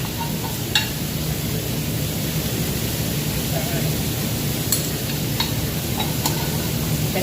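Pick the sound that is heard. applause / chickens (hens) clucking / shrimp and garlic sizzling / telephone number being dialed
shrimp and garlic sizzling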